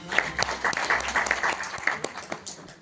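Audience applause for poet Puja Singh Ganganiya at a Hindi poetry gathering during a foundation's annual celebration; steady dense clapping from a crowd with sharp individual claps standing out, moderately loud throughout.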